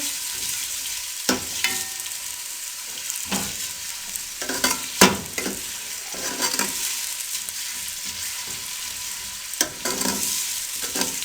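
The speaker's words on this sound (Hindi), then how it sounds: "प्याजों को हल्का सा ब्राउन कर लेंगे।" Onions frying in a pan for a curry, a steady loud sizzle with repeated scraping stirs and a few knocks of the utensil against the pan, close up and alone.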